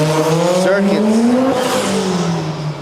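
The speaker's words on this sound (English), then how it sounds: "Not really burning the tire there, more like just checking the grip of the tire" Drag racing car at a Thai drag strip revving its engine while briefly spinning its tires to check grip, a loud rising and falling engine tone with background voices.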